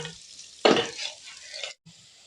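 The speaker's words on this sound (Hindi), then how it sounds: "अब हम इसे फ्राई करेंगे प्याजों को अच्छे से" Onions frying in a cup of ghee give a close, soft sizzle, with a sharper stir or clatter of a spoon in the pan partway through and brief gaps in between.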